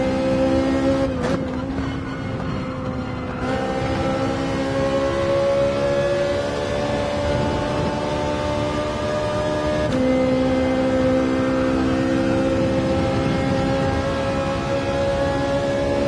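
Race car engine in Gran Turismo 7 on the Dragon Trail circuit, a continuous loud droning whine that climbs steadily in pitch as the car accelerates, with a gear shift around a third of the way through and no talk.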